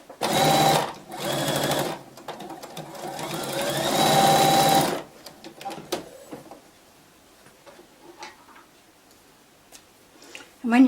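A sewing machine stitches a zipped fabric pouch in three loud close bursts of rapid whirring over about five seconds, followed by quieter handling clicks and someone talking.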